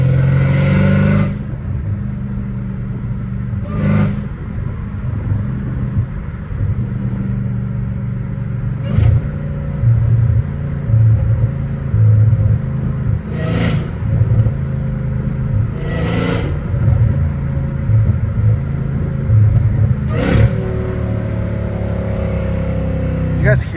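A car engine idles with a deep, steady rumble, broken several times by short sharp revs that rise and fall, loud and close, while a person talks in between.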